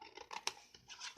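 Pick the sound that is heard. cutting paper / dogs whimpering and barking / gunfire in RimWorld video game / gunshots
cutting paper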